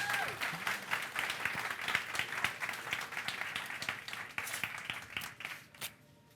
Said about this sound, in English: I think we should have a round of applause for